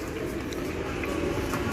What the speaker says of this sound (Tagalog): May mga ibon na.